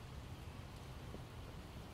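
Steady rain falls in the Project Zomboid video game, a constant low hiss and patter with no breaks, fairly quiet and heard alone.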